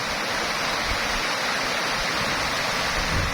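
Waterfall at Sampaloc Falls in Bolinao, a steady, dense rush of falling water that holds constant and loud throughout, with no voices.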